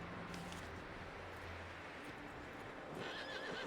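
A horse in Red Dead Redemption 2 gives a clear whinny over a steady bed of ambient noise, with hooves clip-clopping nearby.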